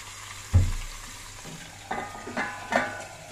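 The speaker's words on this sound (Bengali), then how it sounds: "ভাজার সময় চেষ্টা করি আমি একটু ঢাকা দিয়ে করতে, যাতে চারিদিকে তেলটা কম ছিটকায়।" Rohu fish pieces fry in a little oil in a covered pan, giving a close, steady sizzle with a sharp hiss at the start and a few soft bursts of spitting and stirring after.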